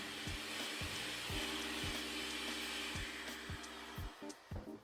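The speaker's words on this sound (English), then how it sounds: "use a hand or stand mixer on a medium-high speed and cream that together for 2 minutes until it's light and fluffy" An electric hand or stand mixer creams lemon cake batter at medium-high speed, giving a steady close whirring motor drone with regular soft knocks as the beaters hit the bowl, and no talking.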